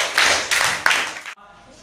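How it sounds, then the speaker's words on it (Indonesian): Children in a fifth-grade mathematics classroom clap together in about three short bursts of brisk clapping, close and loud, then the room drops to near quiet. "Kita kasih tepuk tangan untuk"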